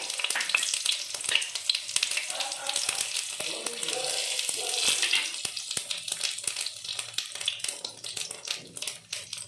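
Cumin seeds and chili frying in hot ghee as a tempering for a no-onion, no-garlic thali, a dense continuous crackle and sizzle close up with scattered sharp pops and stirring scrapes.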